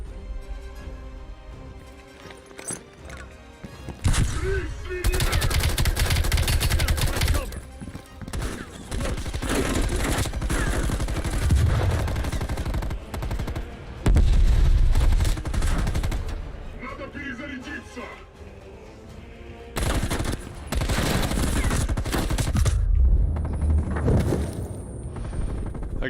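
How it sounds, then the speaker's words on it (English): Sustained automatic gunfire in Black Ops Cold War's Project Artichoke campaign, long loud bursts of machine-gun fire with brief pauses, shouted game dialogue mixed in. "He's shooting me right through a fucking pressure vessel."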